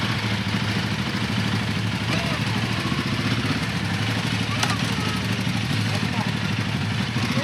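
A motorcycle idles nearby and then pulls away with a steady mid-pitched engine drone that stays fairly loud throughout, and voices can be heard talking over it.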